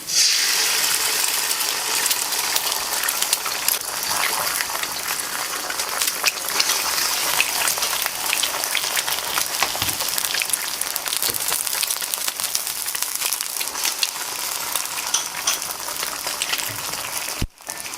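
Egg frying in hot oil with garlic in a stir-fry gives off a loud, steady crackling sizzle that runs continuously without a break.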